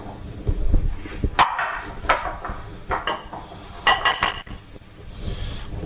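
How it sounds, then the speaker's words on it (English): A whisk gives beer batter for cod goujons a final beating in a bowl. Irregular clinks and scrapes of metal against the bowl come close up, in short uneven bursts. "final whisk of that batter"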